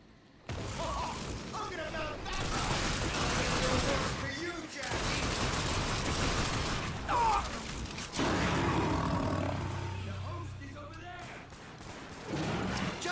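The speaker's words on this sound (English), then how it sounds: "How many times do I have to shoot her before she surrenders?" Gunfire in the video game The Darkness 2 sounds as loud, dense bursts of rapid shots with growls and roars, broken by brief pauses and mixed with voices talking.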